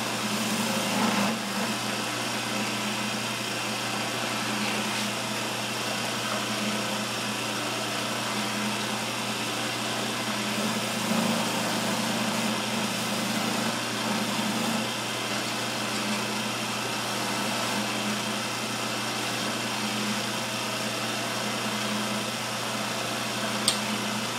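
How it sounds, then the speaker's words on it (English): A wood lathe hums steadily for the whole stretch while a skew chisel cleans up the intersections on a turned chair spindle. The motor drone stays even and fairly loud, with no talking over it. "we'll clean up some of these intersections with our skew"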